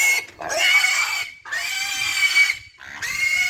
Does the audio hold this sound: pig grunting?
yes